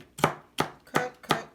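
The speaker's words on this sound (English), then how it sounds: "Now I'm rough chopping it." A knife rough-chops ingredients for Southern-style cornbread dressing, four crisp thuds on a cutting board at an even, slightly quick pace, close and distinct with no talking.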